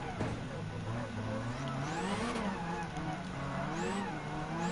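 Group B rally car racing in Gran Turismo 7, its engine revving and shifting pitch up and down with tyre squeal, steady and close, while someone talks over it.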